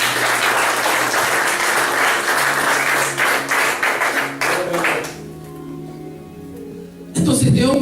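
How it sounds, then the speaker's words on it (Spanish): A church congregation claps for the Lord during a Spanish-language service, a burst of loud group applause that breaks off abruptly, followed by sustained tones and a sudden loud return of sound at the end. "Dale un aplauso al Señor"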